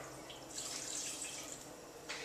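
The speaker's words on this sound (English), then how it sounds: "we add half a cup of vodka into our melted butter" Vodka poured into melted butter in a pan for vodka sauce, a steady liquid splash with hiss lasting about two seconds, near and clear, a brief second pour at the end.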